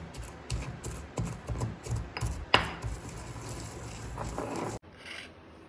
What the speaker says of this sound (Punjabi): ਇਸ ਤਰ੍ਹਾਂ ਆਪਾਂ ਇਹਨੂੰ ਆ ਜਿਹਾ ਕੁੱਟ ਲਾਂਗੇ